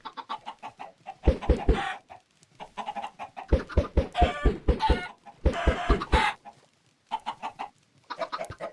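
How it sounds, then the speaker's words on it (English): Chickens in the Minecraft video game cluck in rapid repeated bursts, several birds calling in quick stuttering runs separated by short pauses, clear and close with no speech. "Some of these chickens might get free."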